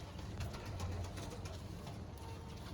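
Flying pigeons of the Teddy breed cooing softly in a steady low murmur at moderate distance, with faint background hum and no other clear sounds.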